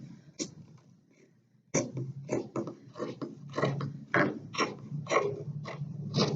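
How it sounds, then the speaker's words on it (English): Scissors cut the neckline out of a T-shirt in a run of crisp, rhythmic snips. After a quiet start with one early snip, the cutting continues at close range, several closes per second. "Cut the neckline out of the shirt."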